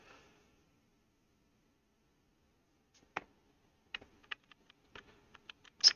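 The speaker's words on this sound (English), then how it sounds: "You can hear all the tappy little buttons." The buttons of an M8 tracker tap and click much like a mechanical keyboard. After a quiet start, a close but faint run of sharp, irregular clicks comes in, and no one speaks over it.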